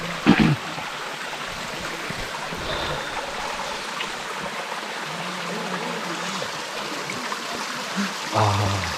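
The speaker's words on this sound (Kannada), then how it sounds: "ಒಳ್ಳೆ ಜರಿ ನೀರು" Steady rushing of a flowing mountain stream on the Kumara Parvata trek fills the whole clip, broadband and continuous, with a brief knock near the start and end.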